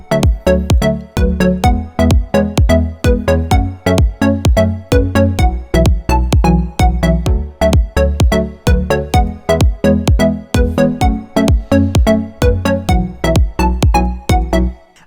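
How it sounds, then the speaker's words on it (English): Synth lead melody over a chord progression, produced in Logic Pro X for an EDM track, playing loud and steady with a rapid rhythmic pulse of plucked notes and no talking. "what I've come up with for some nice leads over top of these chords sound like this."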